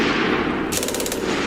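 Rapid burst of German MG-42 machine gun fire, a fast even rattle of shots starting partway through and layered over a constant loud rumbling background.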